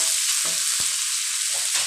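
Rice, pork and jaew bong chili paste stir-fried in a hot pan, a continuous loud sizzle with occasional scrapes and clanks of the spatula, no voices.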